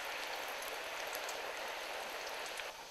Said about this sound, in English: We're going to fry this until you start to have some brown at the edges of the yam